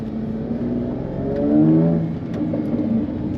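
A Jaguar F-Type 340 hp V6 with sport exhaust droning from inside the cabin, a steady low engine tone that swells as revs rise briefly mid-clip, then settles back.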